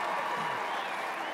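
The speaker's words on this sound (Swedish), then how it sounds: "Ta emot folkets jubel." A crowd applauds and cheers in a large arena, a dense steady wash of clapping that stays even and fairly loud throughout the short stretch.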